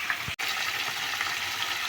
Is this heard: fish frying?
yes